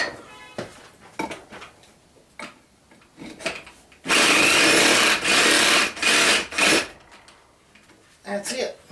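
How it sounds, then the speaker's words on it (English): A hand saw cuts through a piece clamped in a vise. The strokes are rapid, loud and rasping for about three seconds, with quieter tapping and handling sounds before and after. "Let me saw it."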